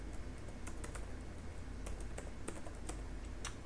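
Fast typing on a computer keyboard while a composer create-project command for Laravel 8 is entered, a steady run of close, crisp key clicks with irregular rhythm and a few louder strikes, no voices.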